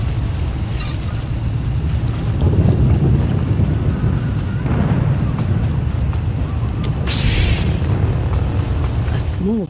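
Heavy rain and rolling thunder from a stormy scene in the Star Wars game Knights of the Fallen Empire, a steady loud downpour with low rumbles swelling in the middle, under faint background voices.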